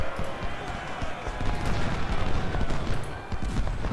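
Union infantry firing musket volleys in Ultimate General: Civil War at the Battle of Shiloh, a rolling crackle of many shots with booming blasts, dense and continuous, with a voice speaking over it.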